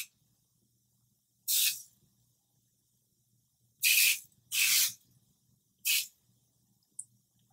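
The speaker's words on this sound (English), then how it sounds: "you can overdo it with the spray and then it becomes too like thick and jelly" Four short bursts of wet hair spray hiss out one after another with pauses between, followed by a tiny final puff, close and otherwise quiet.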